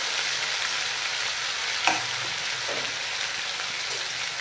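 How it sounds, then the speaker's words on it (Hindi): Jackfruit pieces sizzle steadily in hot oil in a pan for kathal masala, a continuous bright frying hiss with a few soft stirring knocks near the middle, close and alone without talk. "यहाँ हम कटहल फ्राई कर रहे हैं"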